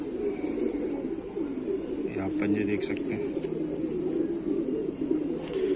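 A Rampuri pigeon hen with slate-grey eyes, her clipped wing feathers growing back, coos softly amid constant low indoor murmur, while someone speaks close by.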